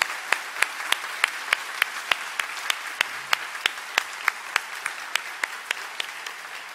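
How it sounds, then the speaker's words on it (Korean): A congregation at a young adult prayer meeting in Toronto claps steadily in a loud, even rhythm of sharp, distinct claps that carries through the whole stretch with no talking. "우리 하나님께 영광의 박수 올려드리겠습니다"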